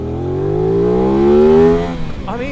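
An Aprilia RS 660 motorcycle engine revving under throttle, its pitch climbing in a smooth, loud sweep before dropping off sharply and blipping again near the end.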